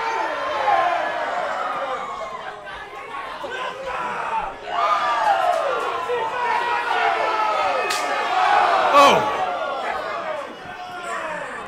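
A wrestling crowd at a falls count anywhere match roars and shouts on its feet, loud, dense and sustained, with voices rising and falling throughout.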